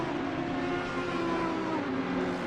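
GT3 race cars, a BMW among them, run down the back straight at Misano in Assetto Corsa Competizione, their engines a steady, droning roar with no voices over it.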